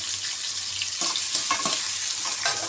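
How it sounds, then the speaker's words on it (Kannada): Steady hiss of spices sizzling in hot oil for tempering a vegetable dish, with a few sharp spatters and pops rising above the frying noise. "ಇವಾಗ ಪಲ್ಯಕ್ಕೆ ಒಗ್ಗರಣೆ ಮಾಡ್ಕೊತಿದ್ದೀನಿ"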